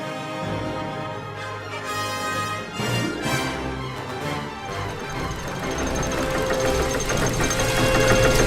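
A machine engine in the video game The Book of Unwritten Tales 2 knocks and rattles with a dense mechanical clatter, building louder and steadier toward the end, alone without voices.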